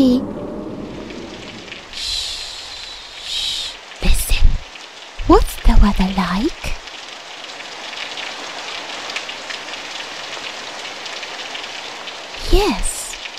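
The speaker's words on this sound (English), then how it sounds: "Yes, it's raining." Rain falls steadily with a constant hiss of drops on a surface, broken by a few brief louder rumbles and knocks.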